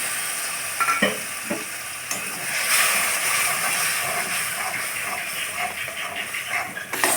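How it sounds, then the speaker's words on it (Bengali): Mixed spice paste tipped into a hot pan over fried onion and tomato for potato egg curry, sizzling loudly at first with scattered spatula stirs and hissing crackle that keeps going throughout, close up, no talking. "এর মধ্যে গুলে রাখা মশলাটা দিয়ে দিলাম"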